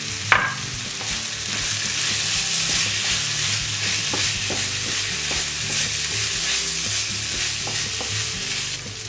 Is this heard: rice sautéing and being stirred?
yes